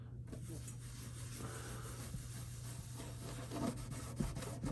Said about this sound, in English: then you just rub and rub and rub and rub and rub